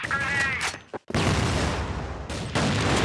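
A grenade explosion and bursts of gunfire in an online shooter match, loud, dense and harsh with a brief drop-out before the roar resumes.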